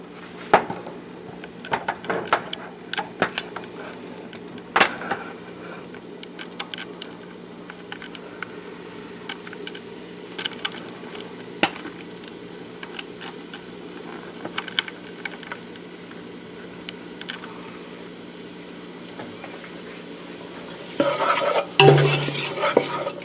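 Onions cook in a pan while a utensil stirs and scrapes them in frequent irregular taps against the metal, over a low sizzle, ending in a louder clatter.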